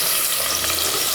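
Onions frying in oil for Hyderabadi bagara rice, a dense, loud, even sizzle heard close up over a brief moment, with no voices.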